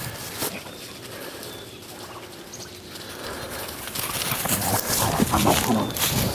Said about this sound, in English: There's the poultry flock.